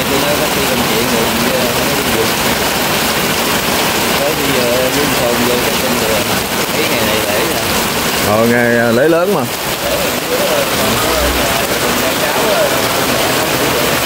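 Heavy early-season rain pours steadily on a holiday in Phụng Hiệp, Hậu Giang, a loud, dense roar throughout, with people talking under it and a brief tonal engine-like sweep midway.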